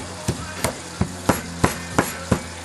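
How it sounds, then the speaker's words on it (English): Seven evenly spaced dull thuds of a meat mallet pounding chicken on a board, close and fairly loud, with quiet sizzling underneath. "Give it a nice hammer."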